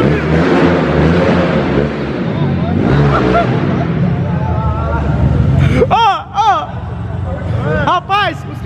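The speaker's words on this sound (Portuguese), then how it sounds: "Acabou de montar a moto, o Pino tá moendo" A motorcycle freshly fitted with a 70mm 220cc engine revs loud and raw amid a noisy, excited crowd, with dense chatter and shouting all around and a few sharp whoops near the end.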